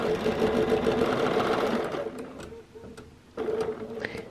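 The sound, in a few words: sewing machine quilting a spiral along a circle ruler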